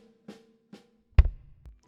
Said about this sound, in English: The first pattern is right, left, kick. This utilizes the single stroke roll and the double stroke roll.